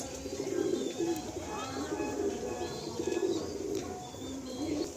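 A group of pigeons in a loft coo in low, throaty, repeated calls that overlap steadily throughout at close range.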